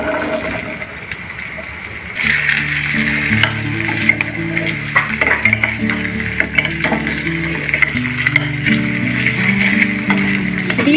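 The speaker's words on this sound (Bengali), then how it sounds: "এইবারে কেটে রাখা আলুগুলো দিয়ে দেবো" Small diced potato cubes fry in oil tempered with spices, producing a loud, continuous sizzle with scraping stir sounds and clinks close by. The sizzle rises sharply as the potatoes go in, over a quiet tonal background.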